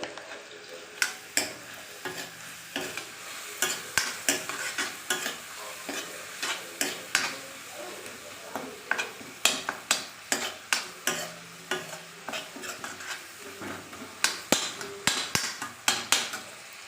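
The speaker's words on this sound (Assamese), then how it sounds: "কিছু সময় ভজাৰ পিছত এতিয়া মছলাখিনি ধুনীয়াকৈ তেল এৰি দিছে" Spice paste of tomato, salt and turmeric frying in oil for a fish curry, a steady sizzle broken by repeated sharp clanks and scrapes of a spatula stirring against the pan, close and continuous.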